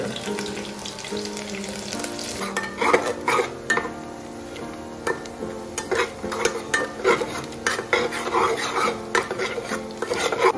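Onions fry in a pan for an Odia-style mutton curry, with repeated metallic scraping and clinking of a stirring utensil against the pan, close and uneven in rhythm, with no talk.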